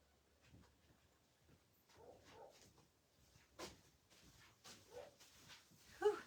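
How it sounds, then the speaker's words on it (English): Dogs barking at something outdoors, heard as several scattered, fairly faint bursts at a distance with quiet gaps between them. "They are barking their heads off at something."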